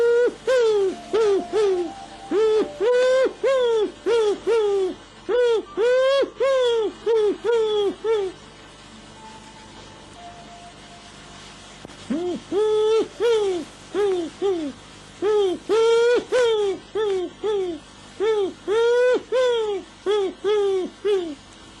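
A hunter's voice imitates the cooing call of a wood pigeon, delivering loud, close phrases of repeated hooting notes in rhythmic bursts, separated by a short pause.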